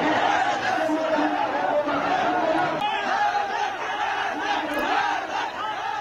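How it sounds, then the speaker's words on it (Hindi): A large crowd of TLP protesters in Islamabad shouts and roars as they chase police, a loud, dense, continuous din of many voices with no pauses. "देखिए कैसे कितने सारे लोगों की भीड़ है और शहबाज की पुलिस को खदेड़ा जा रहा है"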